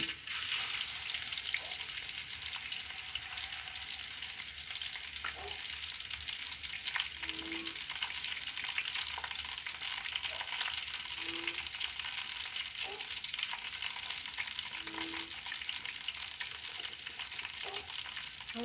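Chicken drumsticks fry steadily over low heat in oil, a continuous soft sizzle filling the whole stretch, with a few faint clinks of a utensil against the pan now and then.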